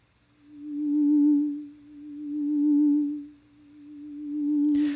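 Single sustained tone from an Ableton Operator synthesizer whose loudness swells and dips in slow repeating waves from LFO modulation, fairly quiet and alone, ending with a brief click.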